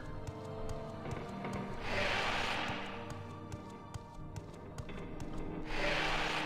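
A cat plays in a cardboard box tower, making scratchy rubbing and scraping sounds in a couple of bursts over a steady background hum.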